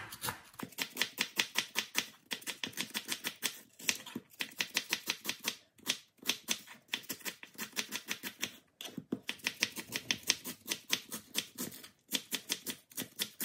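Onions are sliced with a knife on a board in rapid, rhythmic bursts of crisp chops separated by short pauses, close and clear with no talk.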